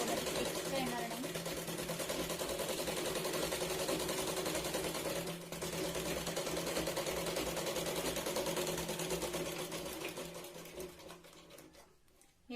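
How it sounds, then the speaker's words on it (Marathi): A sewing machine running a steady, rapid stitch along the edge of a katori blouse, a continuous mechanical whir with a brief pause midway, fading out near the end, with a voice talking over it. "अगदी कडेवरती शिलाई लावत आपण हे मॅच करतोय"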